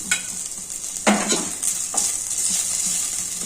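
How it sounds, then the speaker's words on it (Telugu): Finely chopped ginger pieces fry in ghee for pongal, a soft steady sizzle broken by a few louder scraping stirs of a spoon against the pan, close and with no talking. "ఇది కొద్దిగా నెయ్యిలో వేయించుకోవాలి."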